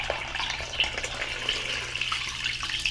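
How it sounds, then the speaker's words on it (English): Cold tap water runs steadily into a bowl to cover a ball of seitan dough, a close, continuous rushing hiss with no talking. "we're gonna submerge it in water"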